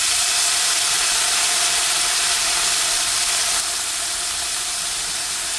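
Water added to a hot pan of capsicum for besan bhaji sends up a loud, steady hiss of steam that holds evenly for several seconds and eases slightly near the end, with no voices.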